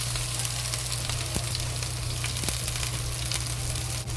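Ginger, scallion and carrots fry slowly in hot oil, making a steady, close sizzle with a few soft stirring knocks and no speech.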